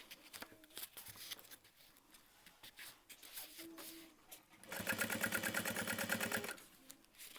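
Sewing machine top stitching a canvas backpack panel, a steady rapid run of needle strokes for about two seconds, loud and close, after quieter fabric handling and shuffling.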